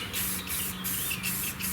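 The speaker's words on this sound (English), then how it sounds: "I'm not being very forgiving with the amount I'm spraying." Spray can of paint applied heavily to a custom car core support, a steady close hiss with brief pulses as the nozzle is pressed and released, with no talk.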